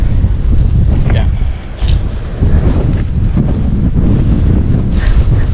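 Strong typhoon wind batters the microphone at sea aboard a fishing boat, a loud, constant roaring buffet with gusty surges and water noise beneath, no pauses throughout.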